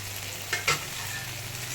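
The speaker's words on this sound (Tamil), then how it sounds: "இப்போ இதை நல்லா வதக்கிக்கலாம்." Ground chilli, Kashmiri chilli and garam masala powders sautéing in gravy in a pan over a low flame, a steady close sizzle with a couple of brief stirring scrapes, no talk.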